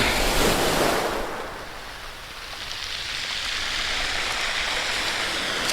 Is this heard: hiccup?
no